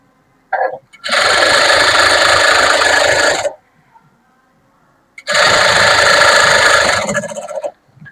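A sewing machine stitches the lining of a garment in two loud, steady whirring runs of about two and a half seconds each, close up, with a quiet pause between them.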